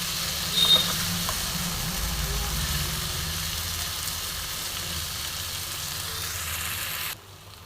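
Chicken cooks with spices in a pan, giving a steady, moderately loud frying hiss with faint scraping from stirring that runs evenly throughout, then drops away abruptly near the end.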